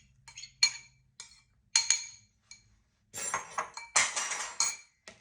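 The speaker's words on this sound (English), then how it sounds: "So what I'm going to do is I'm going to mix this first in the quiche." Crab meat is mixed into a quiche mixture in a bowl, giving scattered clinks of a utensil against the bowl followed by a denser run of scraping, stirring knocks.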